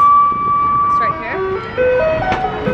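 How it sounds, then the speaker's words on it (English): A garbage truck plays its tinkling jingle tune out on the street, a clear melodic sequence of pure tones stepping between notes over faint traffic rumble. "there's a garbage truck, and the music you're hearing right now, that's what it is"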